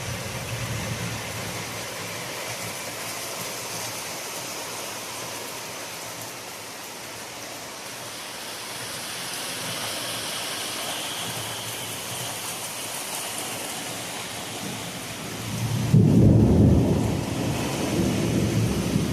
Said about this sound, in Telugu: ఇప్పుడు వర్షం వచ్చేస్తుంది చూడండి. మీకైతే రియల్ సౌండ్ అయితే పెట్టేశాను అనమాట.